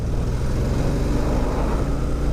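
A 2018 Suzuki V-Strom 650 XT motorcycle engine accelerates in fourth gear from about 2,000 revs with a low, steady chugging rumble, close and continuous without any speech.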